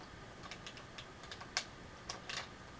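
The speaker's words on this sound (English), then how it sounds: "You can hear me pressing the keys" Keys are pressed during play of Kirby's Dream Land, giving faint, sparse clicks and taps in an irregular rhythm against a quiet background hiss.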